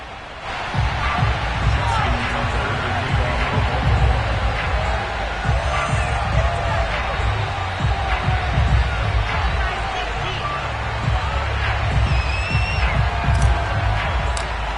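Stadium crowd noise in an EA Sports Madden NFL football video game at Baltimore's stadium, a constant loud roar of cheering fans with scattered whoops, under a commentator's voice.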